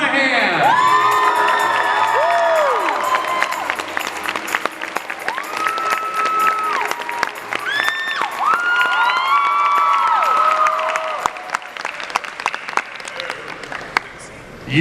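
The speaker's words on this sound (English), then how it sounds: "Please, a big round of applause for Mr." A convention panel crowd at Comicpalooza 2015 claps and cheers loudly for actor Cameron Monaghan, with high whoops and shouts rising over sustained applause that carries on for several seconds.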